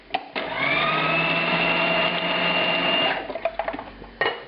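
A kitchen grinder briefly runs on ingredients for meatball lasagne, including ground veal, giving a loud, steady motor whir for about three seconds before it winds down into a few rattles and clicks.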